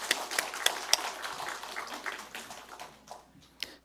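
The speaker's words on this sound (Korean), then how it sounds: "우리 하나님께 영광의 박수 올릴까요?" A church congregation gives a round of applause, scattered claps at first that thicken briefly, then trail off into a few sparse claps, faint and somewhat distant in the sanctuary.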